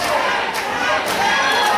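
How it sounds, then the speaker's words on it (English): A wrestling crowd at an NWF match chants loudly and continuously, a dense roar of many voices with a couple of brief thuds mixed in. "Crowd chanting his name."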